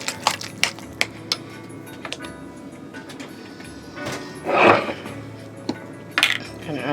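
A spoon clinks and scrapes against a bowl while ricotta cheese filling for lasagna is mixed, giving irregular sharp taps and a brief mushy stirring swell, close and moderately loud.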